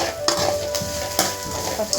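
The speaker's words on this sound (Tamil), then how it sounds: "அது கூடவே 2 பச்சை மிளகாய் நல்லா வதக்கிட்டுருங்க" Onions and green chillies sautéing in a pan with a steady sizzle while being stirred, with a few sharper scrapes and clatters of the spoon against the pan.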